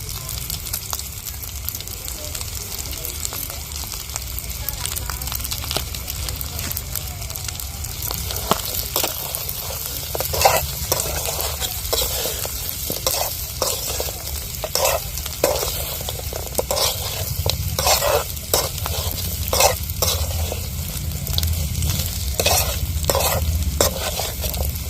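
Chicken feet curry frying in oil is stirred with a spoon in a pot, giving a steady close sizzle broken by repeated scraping strokes throughout, with no talking.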